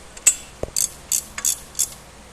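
A socket wrench ratchets while tightening parts on a Reed Lova gunite machine: several short, close bursts of metallic clicking in an uneven rhythm, with one dull knock early on.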